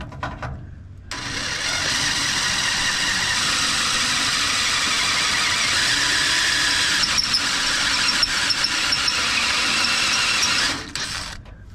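A step drill bit grinds steadily through metal, enlarging a hole to 5/8 inch for a fuel return line grommet on a vintage vehicle, a loud continuous whirring squeal lasting about ten seconds before stopping.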